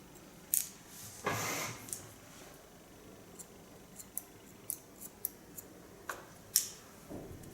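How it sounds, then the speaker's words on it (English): Hairdressing scissors cut hair in a quiet salon, giving sharp isolated snips at irregular intervals, some soft and some crisp and close, with light brushing sounds between them. "And how nice the sound of the scissors."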